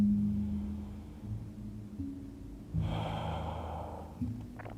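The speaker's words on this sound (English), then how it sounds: "Closing your eyes, breathing through your nose." Slow, relaxed breathing through the nose during a yin yoga session, with a soft drawn inhale and exhale close to the microphone over a low, steady hum of background drones.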